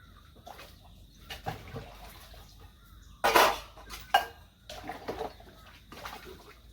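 Dishes are washed in a home kitchen: running water splashes, and pots and cutlery clatter in short, uneven bursts close by, with quieter pauses between them.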